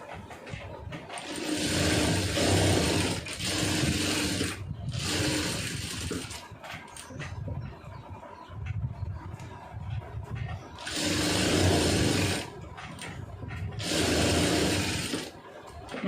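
A domestic sewing machine stitches a lined blouse in several loud, sustained bursts of whirring, with quieter pauses between runs and no talk.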